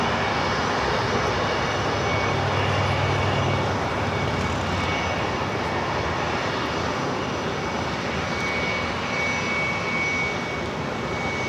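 A Bombardier Global 7500 business jet's engines roar steadily and loudly at LAX, a broad continuous rushing drone with a faint high whine that holds for several seconds, with no talking.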